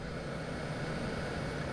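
Twin jet engines of a T-37B trainer spooling up during start in the Prepar3D flight simulator, a steady broadband roar and whine filling the clip at constant level with no talk.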